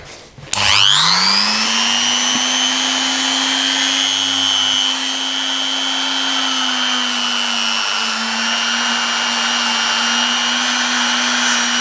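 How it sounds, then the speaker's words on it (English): Banggood die grinder on its slowest speed with a light-grade Scotch-Brite wheel polishing a Daisy Number 155 BB gun: the motor whines up sharply, then holds a loud, steady close drone with abrasive hiss for about eleven seconds. "I've got my trusty Banggood die grinder on its slowest speed with a Scotch-Brite wheel in the end"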